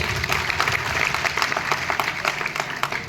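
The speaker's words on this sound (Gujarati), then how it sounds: "એકવાર કે શિવમ માટે પણ જોરદાર તાળીઓ થઈ જાય" Enthusiastic crowd applause at a live Gujarati comedy show, a sustained roomful of clapping at moderate loudness, without talk over it.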